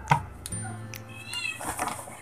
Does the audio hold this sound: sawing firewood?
no